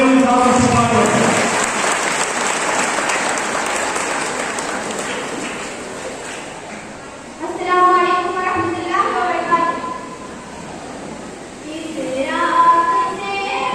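An audience at a school inauguration for an Islamic quiz and devotional poetry competition claps loudly at first, the clapping thinning out over several seconds before a voice takes over.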